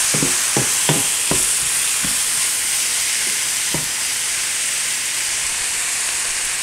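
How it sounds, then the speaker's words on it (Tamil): Chicken coated in masala is stirred in a pan while cooking chicken kuzhambu, with a run of sharp scraping strokes early on over a steady, close sizzle and hiss; no one speaks. "அந்த சிக்கனை நல்லா கோட் பண்ணுற மாதிரி மிக்ஸ் பண்ணிக்கோங்க."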